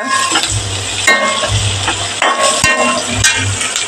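Onion, green chillies and curry leaves frying in a pan for an Onam beans thoran, with a steady close sizzle broken by repeated scraping stirs from a spoon. No one speaks.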